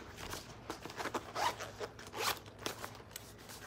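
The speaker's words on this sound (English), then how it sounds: "And it does have a zip in the front pocket." The zipper on the front pocket of a Thirty-One bag is pulled in a series of quick, rasping strokes, close and quiet, with short pauses between pulls.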